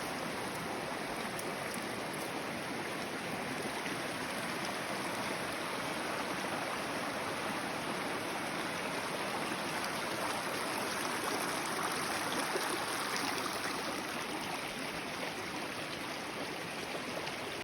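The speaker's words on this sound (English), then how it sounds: "We found the convergence of those two rivers, which is a really cool and powerful thing." Water rushes steadily at the meeting point of two rivers, a broad, constant roar close by with no breaks or voices.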